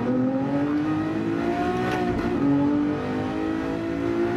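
Lamborghini Diablo GT (2000) engine in a racing video game on the Mount Panorama time trial, revving hard and loud with rising pitch as it climbs through the gears, steady and close throughout.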